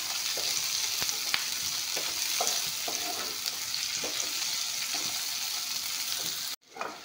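Ingredients fry with a steady, close sizzle in a pan as a spatula stirs them in irregular scraping strokes, until the sound cuts off abruptly near the end.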